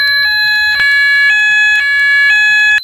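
An electronic fire alarm in a Roblox video game sounds loudly and continuously, a two-tone horn alternating between a lower and higher pitch about twice per second, steady and without speech.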